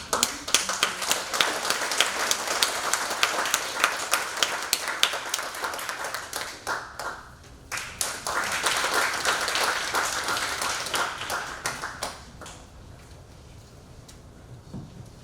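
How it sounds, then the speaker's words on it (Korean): Lecture-hall audience applauding to welcome a lecturer on Joseon-era portraiture, dense clapping that swells, briefly dips, then tapers away over about fifteen seconds. "다 함께 큰 박수로 반응해 주시기"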